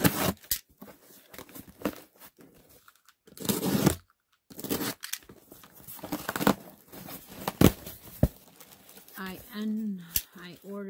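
A taped Amazon cardboard box is opened with bursts of tearing and crinkling, loud rips around four and five seconds, while a person talks intermittently nearby.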